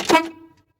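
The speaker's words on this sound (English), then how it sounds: "and my air horn." A brief tractor-trailer air horn blast sounds once, loud at the start and then fading quickly into silence.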